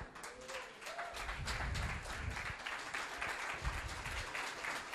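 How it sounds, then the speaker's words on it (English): Audience applause for five presenters at a conference event, a dense steady burst of many hands clapping throughout the room. "One last round of applause for five of the most courageous people I know"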